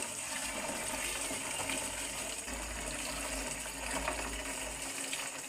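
Fresh water pours steadily from a tap, a continuous rushing gush that stays fairly even and close, with no voices over it.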